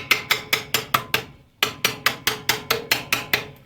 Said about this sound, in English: Half a dozen hits with a hammer